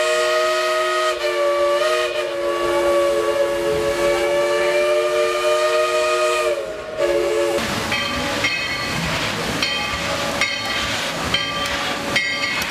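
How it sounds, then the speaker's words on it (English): A Dollywood steam train whistle blows a long, loud sustained chord, then breaks into shorter blasts over the clatter and hiss of the train. "Blow the whistle."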